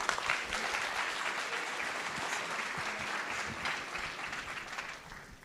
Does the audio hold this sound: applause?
yes